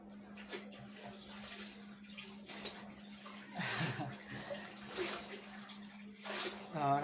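Brush-dyed fabric is swished and rinsed in water, producing intermittent splashing and sloshing bursts over a faint steady hum, with quiet sounds between the splashes.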